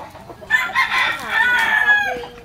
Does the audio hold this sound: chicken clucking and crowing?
yes